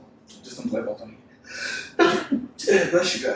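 A person sneezes twice in close succession, with sharp, explosive bursts indoors during a smart home light bulb installation. Quieter breathy sounds come before them.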